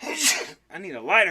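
A single close sneeze bursts out, followed after a brief pause by a person speaking.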